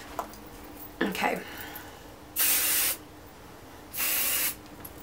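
Two long bursts of aerosol hairspray onto freshly curled hair, each a steady bright hiss lasting about half a second, close and loud, preceded by a brief rustle and a soft click.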